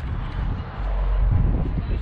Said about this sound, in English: beautiful windy day